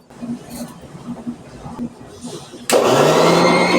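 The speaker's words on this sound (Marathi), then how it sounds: "पहिल्यांदा आता ही मी मिक्सरमध्ये वाटून घेते आहे" A mixer grinder starts up with a sudden loud, steady whirring roar, grinding soaked barnyard millet into paste, after a few seconds of quieter kitchen sounds and someone talking.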